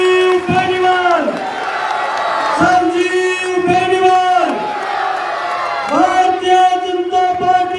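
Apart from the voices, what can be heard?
crowd cheering and applauding a BJP candidate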